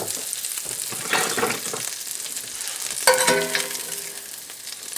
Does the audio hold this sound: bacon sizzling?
yes